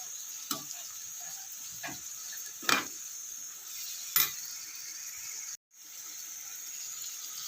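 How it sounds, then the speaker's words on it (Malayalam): Roasted spice powder is stirred into a chilli bilimbi pickle, a soft hiss running beneath a few scattered scrapes and taps of a spoon against the vessel, with a brief drop to near silence. "ഞാനിതെല്ലാം കൂടി ഒന്ന് നന്നായിട്ടൊന്ന് ഇളക്കി യോജിപ്പിച്ച് കൊടുക്കുന്നുണ്ട്"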